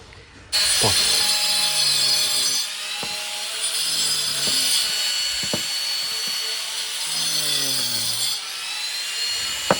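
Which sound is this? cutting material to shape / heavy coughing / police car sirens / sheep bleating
cutting material to shape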